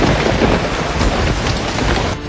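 Heavy monsoon rain pours down steadily in Mussoorie, a loud, dense hiss close by without letting up.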